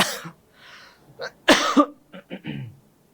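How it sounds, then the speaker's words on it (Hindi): A teacher coughs close by during a classroom lecture in uneven bursts, one loud hacking cough followed by several shorter, lighter ones. "खांसी आ रही है।"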